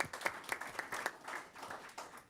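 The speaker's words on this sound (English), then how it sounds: "So can I request everyone for a big round of applause to Chief Constable Campbell?" A round of applause from a modest crowd at a council meeting, steady clapping that stays fairly quiet and even throughout.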